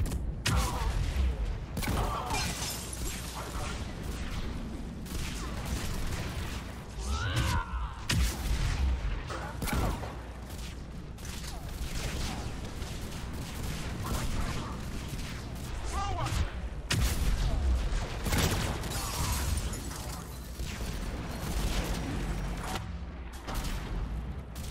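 Repeated explosions and heavy gunfire during the Tuchanka bomb mission in Mass Effect 3 Legendary Edition: a steady run of booms and crackling blasts, with someone talking over the battle noise.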